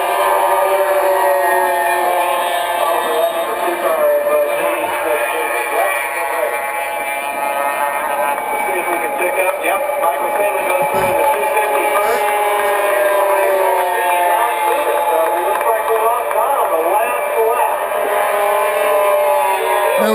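A pack of 250cc Rotax racing karts screams around the Daytona track in 1996, a dense, continuous high-pitched engine whine with overlapping revs, loud and unbroken, with a race commentator talking over it.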